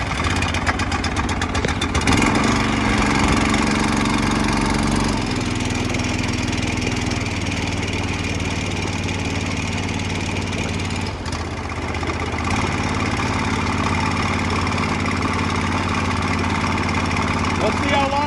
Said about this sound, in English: Throw on the choke, turn it up a little bit, turn the switch on.